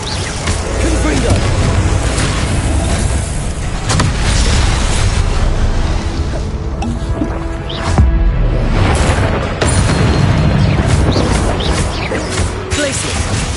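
Confringo blasting spells exploding in Hogwarts Legacy combat, loud booming bursts and crashes packed densely over a busy battle din, with a voice heard shouting among them.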